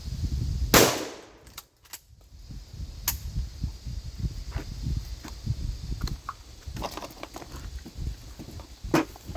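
Gunshots from a cheaper firearm ring out as a few sharp, loud, isolated reports spaced seconds apart, each cracking over a low, rustling outdoor background.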